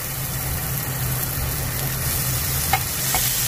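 Meat stir-frying for sauce yakisoba in a home pan, a steady broadband sizzle with a low hum underneath and a couple of faint utensil clicks near the end.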